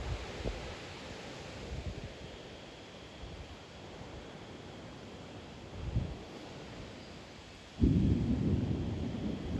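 Deep rumbling thunder in a severe evening thunderstorm with strong wind gusts and light rain, rolling under constant broad wind noise, with a louder sustained rumble surging near the end.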